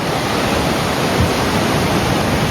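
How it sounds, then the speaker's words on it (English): Ocean waves along the Bluff Trail make a constant, broad roaring wash, loud and near, with no distinct individual breakers or voices. "I'm sure you can hear the waves."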